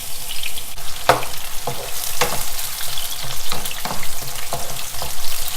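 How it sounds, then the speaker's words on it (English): Chopped onion with a single green chili sizzles and fries steadily in a hot pan for chicken tikka masala, a continuous close crackle broken by the scrape of a spoon stirring, with no voices. "I'm going to add the onion"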